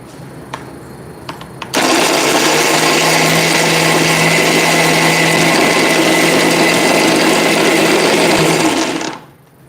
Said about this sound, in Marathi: आणि थोडंसं पाणी देखील घालते आता मिक्सरमध्ये हे छान आपल्याला फिरवून घ्यायचं